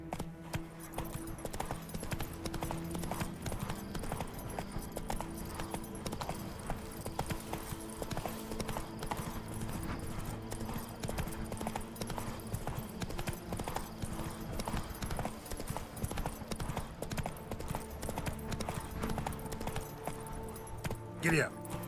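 A horse gallops in The Witcher 3, a steady rapid clip-clop of hooves under continuous game ambience and music, with occasional voices calling out.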